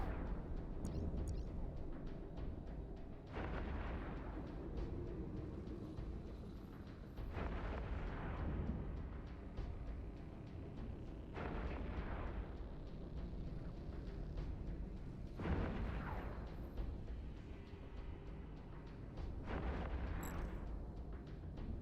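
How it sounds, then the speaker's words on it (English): Guns of a Machariel battleship in the space game Eve Echoes fire in heavy booming volleys, about five evenly spaced blasts each trailing off into a low rumble. "Let's get all the guns firing."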